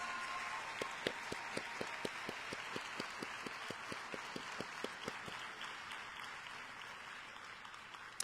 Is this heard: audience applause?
yes